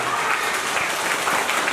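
Dense, steady applause fills the hall at a Rajasthan Film Festival event, a continuous wash of clapping from a large audience with no pauses.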